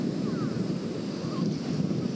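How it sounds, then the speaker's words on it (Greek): Strong wind blows steadily at a beach in Chalkidiki, Greece, a constant roaring rush buffeting the microphone, with faint surf beneath and no clear speech. "Τώρα βλέπεις ότι υπάρχει ακόμη περισσότερος αέρας."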